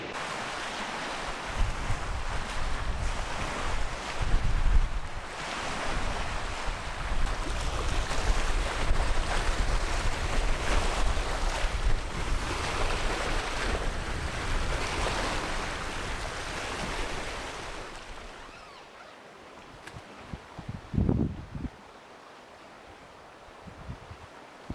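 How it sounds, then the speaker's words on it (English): Big wind-driven waves on Lake Temagami, a broad roaring wash of surf and gusting wind that swells and fades, easing near the end into a few closer splashes and knocks. "Pretty severely windbound today. Big waves, way too big for a canoe."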